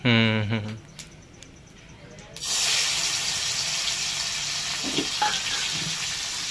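Large prawns coated in turmeric dropped into fully heated oil, bursting into a loud, steady sizzle that holds after a brief quieter moment, with a few clinks and stirring sounds.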